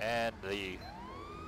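An ambulance siren in Grand Theft Auto V wails in rising and falling electronic sweeps as the vehicle runs red lights, loud at first, then steadier, while someone speaks briefly over it.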